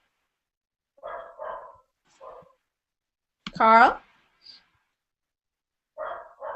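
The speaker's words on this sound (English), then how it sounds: "I just hear a dog." A single loud, close dog bark bursts out between stretches of people talking on a call.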